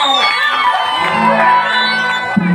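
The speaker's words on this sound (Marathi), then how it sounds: "आमच्या या कलाकारांना तुमच्या या टाळ्यांचा द्या सहारा" An audience at a comic gaulan stage performance by a village troupe claps and cheers for the performers, a loud crowd roar with whoops under the tune of a sung line.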